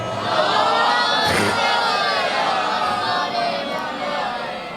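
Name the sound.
crowd reciting prayer aloud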